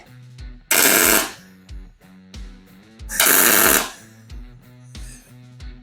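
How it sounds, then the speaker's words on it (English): A bung bracket is welded onto a chopper fender in two loud crackling, hissing bursts of about half a second each, set against a steady layer of rhythmic mechanical thumping nearby. "let's get our crap together and we will get this bung welded in"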